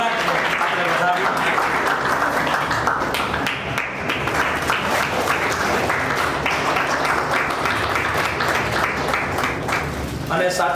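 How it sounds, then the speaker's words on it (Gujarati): Loud, sustained applause from an audience at a photography exhibition in Bhavnagar, welcoming the Yuvraj Jaiveerrajsinh Gohil, with dense steady clapping running throughout and only a brief dip. "યુવરાજ શ્રી જયવીરરાજસિંહ ગોહિલનું જોરદાર તાળીઓના નાદ સાથે આપણા ભાવેણાના યુવરાજને આપણે વધાવીએ"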